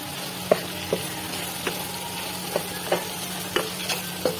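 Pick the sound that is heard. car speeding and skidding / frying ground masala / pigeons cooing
frying ground masala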